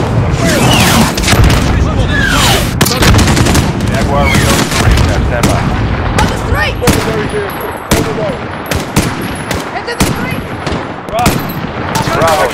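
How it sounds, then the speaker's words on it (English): Missile strike during a Call of Duty Modern Warfare campaign firefight: heavy booms merge with nonstop rapid gunfire and dense crackling shots, loud and close throughout, with voices talking amid the battle. "Copy, missile inbound. Nice fucking missile."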